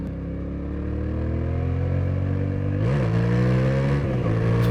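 A 2024 Yamaha Tenere 700 with its CP2 parallel twin engine revs on the road, a loud, close, rising drone that swells through two quick throttle blips near the end, with no talking over it.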